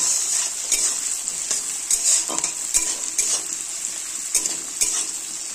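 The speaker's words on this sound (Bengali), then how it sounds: "এখন দিয়ে দিচ্ছি কেটে রাখা পেঁয়াজ কুচি, দিয়ে হালকা একটু লাল লাল করে ভেজে নিচ্ছি।" Chopped onions frying in a pan with bay leaves, dried chilli and five-spice, a bright steady sizzle broken by regular scrapes and clinks of a spatula stirring, close and fairly loud.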